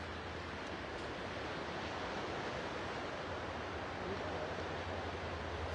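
Broad, steady wash of sea waves on a calm, flat sea, with wind noise against the microphone, continuous and even throughout with no talk.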